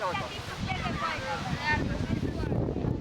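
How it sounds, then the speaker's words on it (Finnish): Strong wind buffets the microphone at an outdoor youth football cup match, a continuous low roaring rumble with voices calling faintly in the background. "Kova tuuli."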